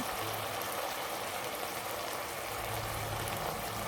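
Beef tripe frying in a pan as a little water goes in, giving a loud, steady hiss and sizzle that runs unbroken from start to finish with no talking.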